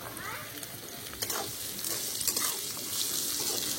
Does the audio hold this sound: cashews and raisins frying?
yes